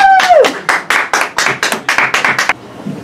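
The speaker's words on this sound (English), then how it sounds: "Round of applause for our Students of the Week." A small group claps for students of the week during a school announcement, with a brief whoop at the start; about a dozen close, loud, uneven bursts of clapping over roughly two and a half seconds.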